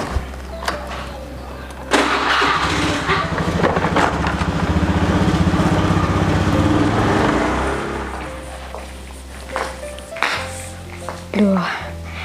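A car's engine cranks and catches, then runs with a loud steady rumble for several seconds before settling, with door and interior clunks around it and people talking over parts of it.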